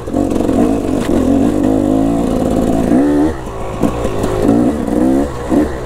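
A KTM motorcycle engine pulls hard in second gear, its loud revving note climbing steadily for about three seconds, dropping briefly, then rising again in several shorter bursts of acceleration close to the bike.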